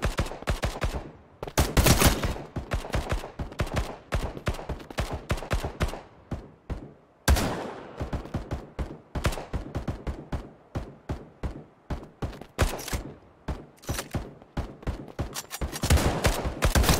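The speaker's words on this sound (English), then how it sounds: "I'll get shot at now as well." Rapid bursts of gunfire crackle through a shooter game in the Passed Out Prologue alpha, dense volleys and single shots repeating almost nonstop with brief gaps, loud and close.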